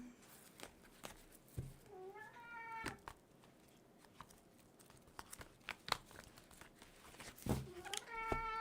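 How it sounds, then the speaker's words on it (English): A pet cat meows several times at close range, short rising cries scattered among soft rustling and crinkling in a quiet room, with brief murmurs of a voice. "my cat may try and jump up"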